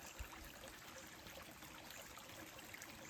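Water from a lake spilling over a concrete edge outdoors, a steady, fairly faint rushing trickle that runs unbroken and alone.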